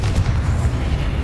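A Confringo explosive spell cast in the wizarding game Hogwarts Legacy, a loud, dense, rumbling boom filling the short moment with no talk.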